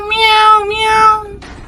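A person imitates a hungry cat meowing for milk, giving two drawn-out, loud, close meows followed by a brief breathy sound.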